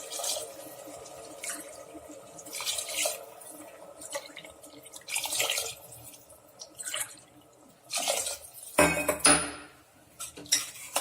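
Water poured from a tumbler into rice for a vegetable biryani, several separate splashing pours with metallic clinks of vessels between them, close and moderately loud.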